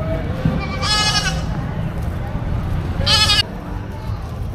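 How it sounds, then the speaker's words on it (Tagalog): Sheep at a Philippine livestock market give two short, nearby bleats separated by a pause, over steady market chatter and background noise. "Mga tupa naman na rin, binebenta pa din eh."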